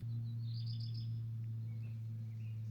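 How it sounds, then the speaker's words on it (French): Birds sing outdoors in the morning as faint, distant chirps and short trills. The calls sit over a strong steady low hum that stays through the whole moment. "les oiseaux qui chantent"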